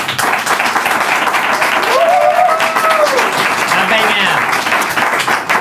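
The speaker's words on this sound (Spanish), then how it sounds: "Y quiero pedir otro fuerte aplauso para Jorge Giorgia." A live comedy audience in Madrid applauds a guest, steady dense clapping filling several seconds, with a voice calling out over the crowd partway through.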